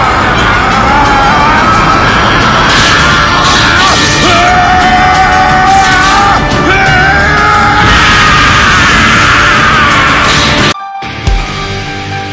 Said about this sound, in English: Vegeta went and he screamed.